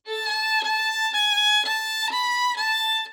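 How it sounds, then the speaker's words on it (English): A violin bowed too close to the fingerboard sustains one note through several quick, even bow changes. The tone is thin and airy, heard up close with nothing else. "Most beginners play too close to the fingerboard, and because of that, it sounds like this."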